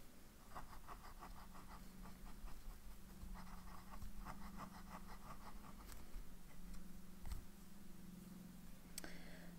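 A fountain pen with a medium nib writes with Ferris Wheel Press Poison Envy ink, making a close, quiet scratching that comes in short strokes and rhythmic pulses against a faint steady hum, with no talking.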